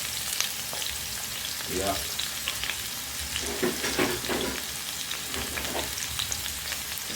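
Sweet peppers and jack mackerel sautéing together in a pan for a Jamaican breakfast, a continuous close sizzle with stirring scrapes, and a brief spoken word partway through.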